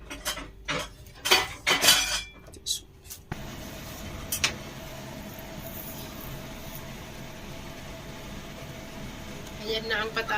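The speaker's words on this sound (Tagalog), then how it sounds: "Cut the potato and sweet potato." A knife slices through raw potato and sweet potato being cut for French fries, giving a cluster of close taps and crisp cuts in the first few seconds before a steady low background hum takes over.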